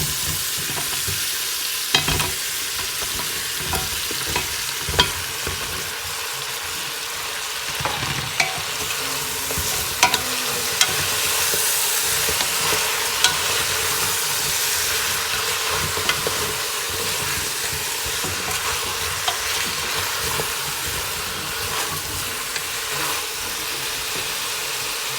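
Chopped vegetables and chicken sizzle steadily in a hot pan, with scattered clinks and scrapes from stirring throughout, close and fairly loud with no talk.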